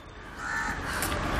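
A crow caws loudly and close by in a short burst of harsh calls, heard alone with no talking.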